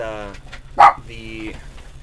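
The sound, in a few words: dog barking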